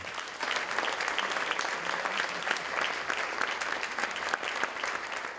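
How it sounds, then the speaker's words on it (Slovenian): Sustained audience applause for award winners at a municipal ceremony in Radenci, dense continuous clapping from a crowd throughout, moderately close. "Prosim še enkrat velik aplavz za vse zbrane."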